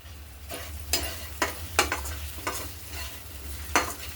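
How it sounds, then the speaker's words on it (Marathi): Ground spices with coriander powder and garam masala sautéing in oil for a dhaba-style cashew curry, with a low steady sizzle cut by repeated stirring scrapes at irregular intervals, close and moderately quiet. "आता हे मसाले त्यामध्ये परतून घेऊ।"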